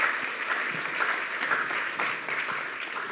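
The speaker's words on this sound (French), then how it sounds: "Sous vos applaudissements, mesdames, messieurs" Steady, dense applause from an audience greeting a journalist at a round-table event, a continuous wash of clapping with no voices over it.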